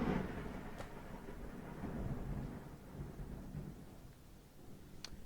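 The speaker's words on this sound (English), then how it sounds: "Was that on audio? Did we get that on audio? It's storming outside." Thunder rolls through a stormy night, a low continuous rumble with a couple of faint sharp cracks, steady and moderately distant with no voices.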